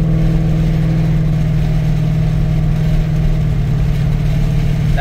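Vehicle with a 6R80 automatic transmission cruising under steady load, its engine a constant droning hum with low road rumble as it moves through the upper gears, loud and close with no clear break between shifts.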